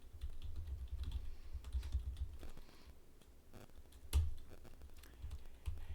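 Rapid, uneven clatter of keys on a computer keyboard, close and steady for several seconds, with a few louder thumps like the space bar and no voices.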